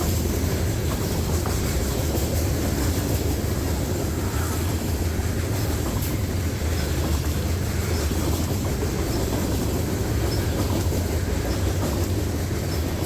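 Freight train rolling past on the single-track New York Central line, a steady loud rumble of wagons with low engine drone and faint clickety-clack throughout, no voices.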